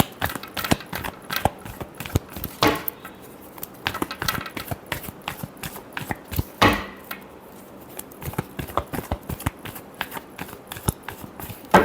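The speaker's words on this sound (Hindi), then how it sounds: "last shuffle" Tarot cards are shuffled by hand in loose, uneven bursts of quick flicks and taps, close by, with a few heavier slaps and short pauses, no voices.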